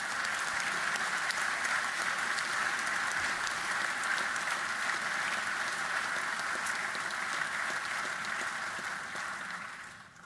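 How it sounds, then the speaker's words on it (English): Sustained applause from a large audience in a state assembly chamber during a governor's State of the State address, a steady dense wash of clapping that holds for about ten seconds before easing slightly at the end. "Everyone should give themselves a round of applause on that one."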